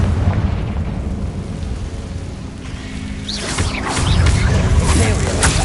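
Confringo blasting spell exploding in Hogwarts Legacy, a heavy rumbling burst that swells with crackle near the end amid game noise and a voice.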